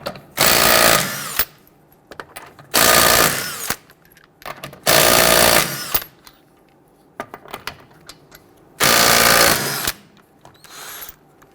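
Bursts of a pneumatic impact wrench loosen and remove wheel lug nuts on a 2006-2012 Toyota RAV4, four loud close rattling bursts of about a second each, separated by quieter gaps.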